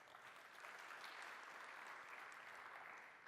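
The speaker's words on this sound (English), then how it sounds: "I wasn't expecting this much applause" Applause from a conference audience at a technical session on building Microsoft Teams apps, a steady wash of many hands clapping, fairly faint and distant, holding evenly for about three seconds.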